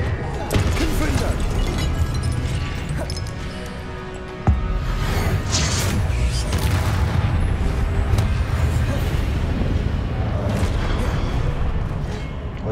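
Confringo fire spell blasting in Hogwarts Legacy during a boss fight, a dense, sustained roar of booming impacts with one sharp hit partway through, loud throughout.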